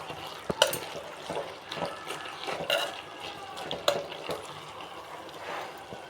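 Pallipalayam chicken being stirred with curry leaves and coriander in a pan, giving soft intermittent scraping and clinking of a spoon against metal over a faint sizzle, close and quiet with no talk.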